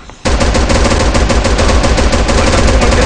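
Sustained automatic gunfire from Special Force 2 erupts after a brief quiet start, a loud, dense stream of rapid shots with no pause.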